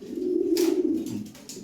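Pigeons cooing in a seller's loft, racer birds of Belgian bloodline among them; a steady low throaty coo runs throughout, close and moderately loud, with brief bursts of rustling or flutter.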